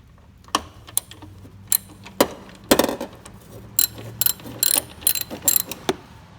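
A ratchet loosens a 10 mm bolt on a Mazda NA Miata during a soft top removal, sounding as a series of close, sharp clicking bursts, some isolated and some in quick runs, with no talking.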